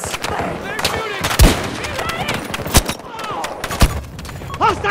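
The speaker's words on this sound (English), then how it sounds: "They're shooting!" Battlefield 2042 combat fills the scene with repeated sharp gunshots and heavy booms. Close cracks ring out over a busy rumble of distant fire, and shouted voices and chatter break in over the top.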